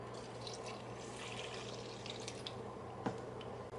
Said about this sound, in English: Then we're going to add 1 cup of warm water.